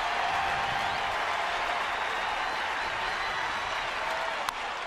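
A baseball stadium crowd at a perfect game roars in a dense, steady wash of cheering and applause that holds at an even level throughout, with no talk over it.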